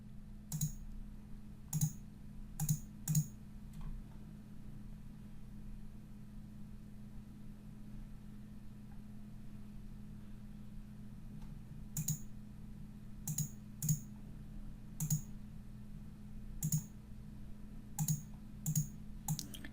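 Computer keyboard keys tapped in short bursts of several quick clicks, separated by pauses, over a steady low electrical hum; close and moderately quiet, no speech.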